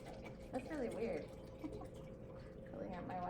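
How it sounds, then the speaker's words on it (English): Water filling a drinking bottle, a close gurgling pour with rising liquid tones running for a few seconds while someone talks over it. "Filling up my water like that."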